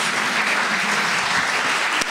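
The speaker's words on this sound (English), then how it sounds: "So a big round of applause for Kirk and Tsur." A city debate audience in a lecture hall applauds the speakers with a steady, dense roar of clapping that holds evenly throughout, with no speech on top.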